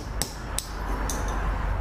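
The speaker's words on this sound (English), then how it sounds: "We want to hammer this axle out of the wheel." Hammer striking a pin to drive an axle out of a toy Trackmaster train engine wheel: three or four sharp, close metallic taps at uneven intervals over a steady background hiss.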